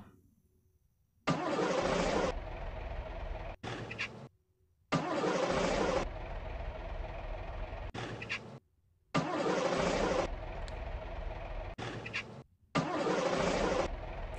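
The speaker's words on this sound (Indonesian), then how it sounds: "Untuk mesin starternya ini, suara sound effect starternya ini." A bus engine starter in the game Bus Simulator Indonesia cranks in repeated bursts, each a few seconds long and separated by short silences, with rough mechanical whirring.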